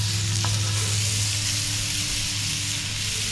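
Steak bites sizzle and fry steadily on an unlevel griddle, a loud continuous crackle with a low hum underneath, no talking.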